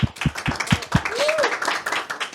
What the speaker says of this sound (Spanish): Así que un aplauso para ustedes en casa